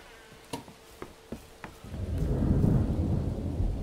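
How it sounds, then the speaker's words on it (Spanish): Radioactive rain and thunder in the survival video game Miscreated: a few sharp cracks of thunder, then a steady rush of heavy rain building up and continuing to the end, with no voices. "Vamos a aguantar aquí que se quite la lluvia radiactiva"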